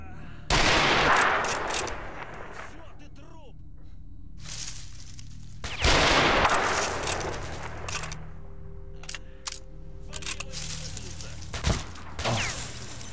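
Gunfire in STALKER: Shadow of Chernobyl, with loud bursts of rifle shots at about half a second and six seconds, then sharper isolated cracks and impacts later, amid ambient game noise.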